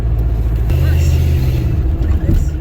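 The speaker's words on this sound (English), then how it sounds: "It definitely sounds like an old V8 car." A deep, throaty V8 engine of a 1971 Plymouth Valiant rumbles steadily up close, its low burble holding a rough idle with a slight rise, while voices talk over it.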